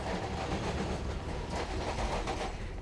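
A tram ride through Melbourne, Australia, with a steady low rumble and faint rail clatter rolling continuously at a soft, even level.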